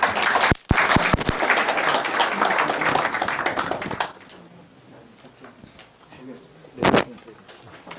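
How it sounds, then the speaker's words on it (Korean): An indoor audience at a Korean history lecture claps for about four seconds in a dense burst of applause. Quiet room noise and a brief knock follow. "오늘 강연을 맡아주실 남우현 교수님을 박수로 맞아주시기 바랍니다."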